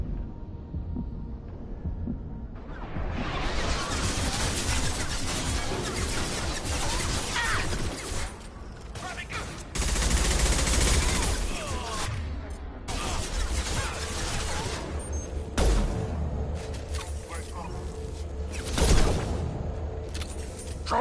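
Sustained gunfire and combat noise from the sci-fi shooter Mass Effect 2: dense, loud bursts and crashes run almost continuously, with heavier impacts near the middle and end and faint voices in the mix.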